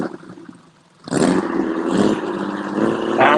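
A Volkswagen fitted with a Porsche 911 six-cylinder engine fires up after a quiet moment, then settles into a loud, steady, throaty idle with rumbling exhaust close by.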